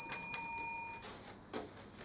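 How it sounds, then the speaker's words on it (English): Timing bell at a Year 8 school debate quarter final, struck twice in quick succession with clear ringing tones, followed by faint room sounds and soft rustling. "A warning bell will be rung once at 3 minutes."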